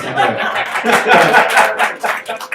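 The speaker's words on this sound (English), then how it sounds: "That means he wants you to clap, guys" A comedy quiz show crowd gives scattered applause mixed with chuckles and laughter, the claps arriving in loose clusters while people talk over them.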